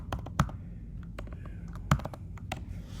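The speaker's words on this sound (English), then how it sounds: "my typing sucks" Fingers type in quick, uneven bursts on a computer keyboard, with light close-up key clicks and a couple of louder keystrokes standing out over a quiet room background.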